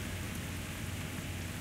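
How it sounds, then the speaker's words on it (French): Quiet, even rainfall in the video game Saints Row The Third, a soft continuous hiss of drops on surfaces with no breaks and no voices. "Oh les gars, il pleut."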